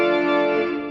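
Pipe organ sounding a sustained loud chord on a preset piston combination, rich and steady for a second before fading slightly, with no talk over it.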